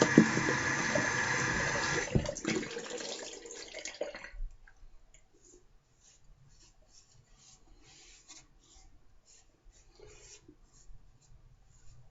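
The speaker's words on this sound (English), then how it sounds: "Some cold water." Cold water runs from a bathroom tap after a shave. It gushes loudly for about four seconds, then cuts off, leaving a quiet stretch with faint small knocks and clicks.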